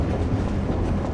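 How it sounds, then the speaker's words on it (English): A train rolls past in a video game, a dense low rumble with rhythmic clickety-clack from wheels on rails, loud and continuous through a brief moment. "Oh my god, it's a train."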